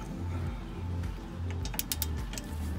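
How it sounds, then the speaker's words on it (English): An extendable ratchet with an 18mm socket working on tight bolts on a Pontiac Torrent or Chevrolet Equinox, giving quick rhythmic clicking pawl strokes close by, with a few sharper metallic clacks near the end. "Now I'm using this ratchet, which I can make it longer, and it gives me more leverage"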